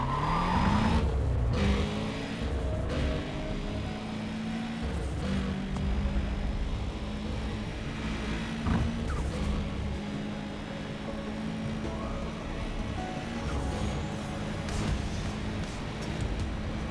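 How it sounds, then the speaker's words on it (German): A car in the Need for Speed World racing game accelerates and skids, its engine drone joined by sustained tire squeal that fades in and out over a long, continuous stretch, with no talking. "verlassen den Stützpunkt und geben mal ein bisschen Gas"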